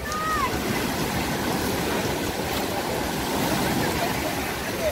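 Steady, dense rushing of Black Sea waves washing on a shore at Arkhipo-Osipovka after a storm, a constant broad roar without pauses, fairly close.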